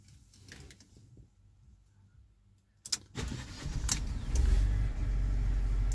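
After a quiet stretch with faint clicks, the small 0.9-litre two-cylinder Twin Air engine of a Fiat 500S cranks and catches, then settles into a steady, throbbing idle.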